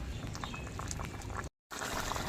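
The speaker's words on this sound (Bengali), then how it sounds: "এবার মাছগুলি ঝোলের সাথে মজে যাবে তার জন্য জাল করে নেব" Katla fish curry with green chillies simmering in a pot, a dense continuous bubbling and hissing boil, close and steady, cut by a brief moment of silence.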